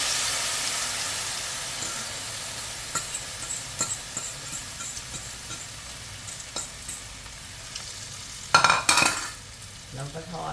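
Egg mixed with cha-om and minced pork fries in a pan with a steady hiss and sizzle, occasional utensil clicks, and a louder burst of crackling near the end; no one speaks.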